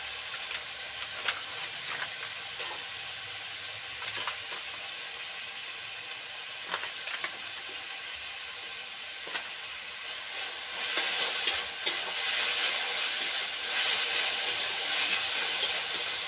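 Ginger garlic paste sizzling in a hot pan while cooking chicken with chana dal, a steady close hiss with scattered crackles that grows louder and denser toward the end, no voices.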